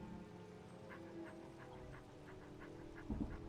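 Dog companion in a Skyrim-style video game panting in quick repeated breaths, with a faint whimper, over a steady rain-like ambient bed and a short thump near the end; no one speaks.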